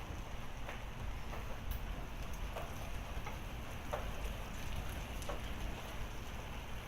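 Heavy rain pours steadily during a severe thunderstorm with hail and lightning, a dense, loud, unbroken roar with scattered sharper drop hits and a little wind buffeting, with no voices.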